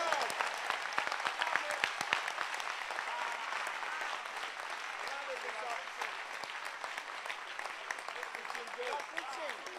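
A church congregation at a camp session clapping hands for Jesus, dense and sustained, with sharp individual claps standing out over a steady crowd din and voices mixed in.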